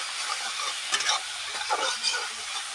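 A paste of ground cumin, coriander and radhuni sizzles in hot oil in a pan, a soft, steady frying hiss broken by a few scraping stirs of a spoon.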